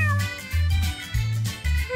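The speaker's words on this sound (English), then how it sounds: "Oh my, look, it's a kitty!" A toy kitty with glittery fur gives several clear, loud electronic meows in quick succession with no talking.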